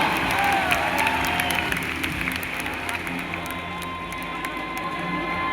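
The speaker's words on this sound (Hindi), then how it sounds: "आइए जोरदार तालियों से स्वागत करते हैं फवाद सर का।" Audience applause greeting a speaker at a meeting, a dense and loud wash of clapping with some cheering that holds steady throughout.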